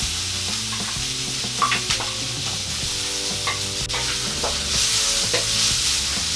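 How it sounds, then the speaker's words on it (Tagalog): Onions sizzle in hot oil with light-brown garlic, stirred repeatedly with a utensil, giving steady frying crackle and intermittent scraping clinks close by. "Isunod na po natin ang sibuyas."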